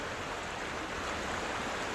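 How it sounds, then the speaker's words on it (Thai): Clear mountain water flows steadily in a scenic outdoor spot during light rain, a continuous broadband rush that holds an even, moderately loud level for the whole stretch with no voices. "ฟังเสียงน้ำไหลนะคะ จากภูเขา"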